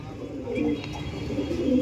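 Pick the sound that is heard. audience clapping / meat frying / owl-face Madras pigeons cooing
owl-face Madras pigeons cooing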